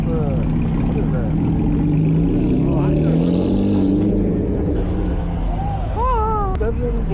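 A Mazda RX-7 engine drones past at a night car meet on Long Island, a steady rising and falling rumble with other revs and crowd voices talking over it.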